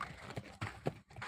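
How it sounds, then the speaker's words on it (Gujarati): A mare's hooves clop on hard ground after she drinks water from a tank, a few uneven thuds close by with faint talk in the background. "પીવડાવી લઈ ઘોડીને,"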